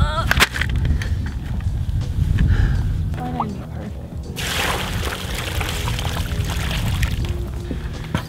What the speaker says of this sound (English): we're just gonna fill one of these buckets up with a bit of water, pour it down there